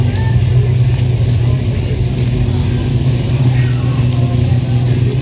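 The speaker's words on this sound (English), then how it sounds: "Very nice old Chev." A 1939 Chevrolet at a car meet gives a steady, low engine rumble close by, continuous and fairly loud throughout with faint background murmur.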